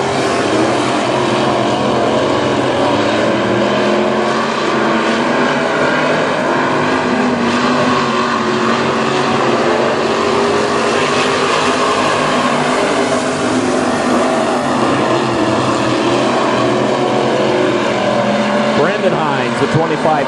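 WISSOTA Midwest Modified race cars run side by side at Princeton Speedway, a continuous loud roar of engines that never lets up, with a commentator talking over the racing throughout.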